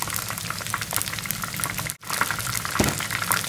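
Oil crackles and sizzles steadily as chicken cartilage deep-fries over medium heat, a dense, busy bubbling heard close up with a brief dip partway through.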